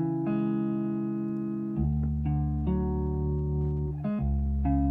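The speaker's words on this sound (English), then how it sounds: "I call this sound a romantic kind of sound, a romantic guitar." A romantic-toned guitar sound from a Pana-style beat production plays sustained, smooth chords that shift every second or so over a low bass drone, steady and moderately loud with no voices.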